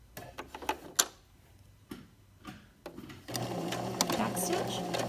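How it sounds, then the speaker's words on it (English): A sewing machine back stitches a fly zipper around the curve, starting with short separate bursts of stitching between pauses, then settling into a loud, steady run for the last couple of seconds. "now I'm going to do another back stitch around the curve"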